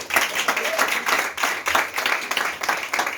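A church congregation applauds together, dense rhythmic clapping that stays loud and steady throughout, close and enthusiastic, with no voices over it.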